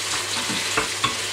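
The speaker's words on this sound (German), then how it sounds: "Wir packen jetzt einfach mal das Fleisch rein" Meat seared in hot oil for goulash sizzles in a steady broad hiss, with a couple of faint clinks and stirring scrapes, no talking.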